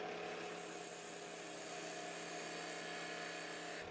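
Wood lathe with a parting tool cutting a tenon on the base of a turned bowl: a steady, loud, high whine with constant tone runs unbroken for about four seconds, then cuts off at the end.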